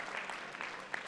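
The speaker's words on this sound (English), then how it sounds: "So please, a big round of applause to the CEO" An audience at an awards ceremony applauds the CEO in a dense, steady wash of clapping from many hands, moderately loud and continuous with no voices.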